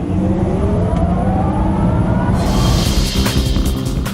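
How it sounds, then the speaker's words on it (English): An electric-converted replica of a 1957 Speedster drives along a city street, with a steady rising whir and road rumble heard from inside the car and wind noise building up partway through. "All right, here we are driving on a normal, good old city street."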